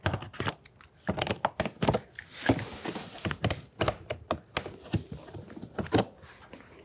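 Makeshift knife cutting through the cardboard box of a huge 88-inch LG Z2 OLED TV, a rapid run of close, sharp scraping and tearing crackles with brief pauses, no talking.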